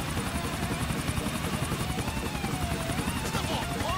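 A GTA IV helicopter setting down carefully in a crowded spot, its continuous rotor thrum and engine buzz heard close and steady while someone talks over it.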